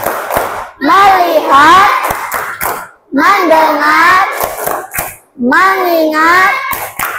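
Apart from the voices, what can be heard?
class clapping the tepuk fokus rhythm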